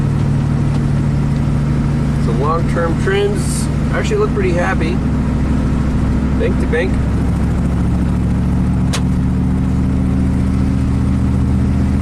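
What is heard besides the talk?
Chevy Vortec V8 dump truck engine running with misfire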